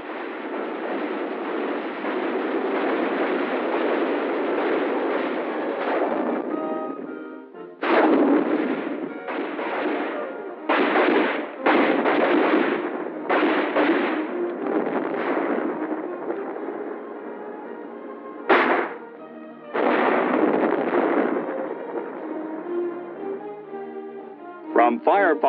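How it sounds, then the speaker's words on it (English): Army firepower demonstration from around 1951, with bursts of artillery and gunfire sounding in repeated heavy blasts and volleys separated by short gaps, over a steady rumbling background. "This firepower is aptly demonstrated for them in this display."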